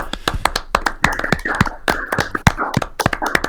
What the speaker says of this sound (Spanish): Qué raro suenan algunos de esos aplausos venidos a través de internet.